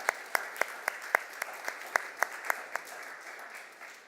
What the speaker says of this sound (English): Can we give yourselves a round of applause?